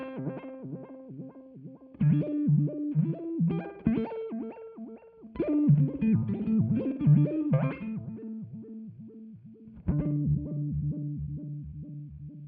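A Time Dilation V5 delay plugin with its rate turned down processes a distorted synth line, giving stepped, repeating note bursts that echo and decay in a rhythmic pattern, with no talking.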